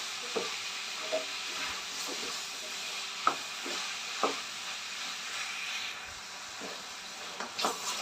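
Bottle gourd sautéing in hot oil with masala, a steady close sizzle and hiss with occasional scraping stir clicks from a spoon.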